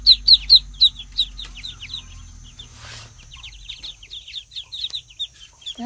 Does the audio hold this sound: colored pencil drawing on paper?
no